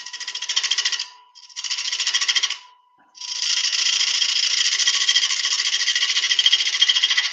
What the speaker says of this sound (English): Start the lathe again.